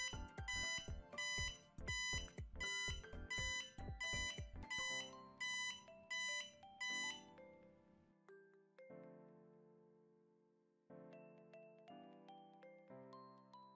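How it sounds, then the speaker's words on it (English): An MQ2 gas sensor on a Maker NANO board sounds an alarm tune of bright, evenly repeated tones, a rapid beeping run that gives way to slower, held melodic notes, loud and clear with no voices. "you will hear an alarm sound when the value of the gas is more than 300"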